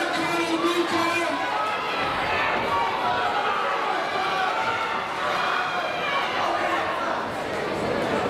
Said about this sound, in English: you should cheer more on